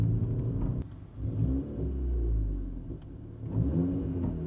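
Straight-piped Seat Ibiza Bocanegra with a 1.4 TSI engine, close up and alone, giving a deep, throaty rumble that surges and falls as it revs, with a few sharp pops in between.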